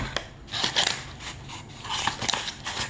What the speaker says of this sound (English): So I already got my scissors out just to be able to open up this box here just to get ready for today.